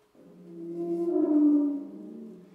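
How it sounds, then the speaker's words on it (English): A bent metal sheet struck with a small mallet gives one long, eerie, whale-like tone that swells and bends in pitch before fading, clear and alone. "Almost can get like whale sounds, right?"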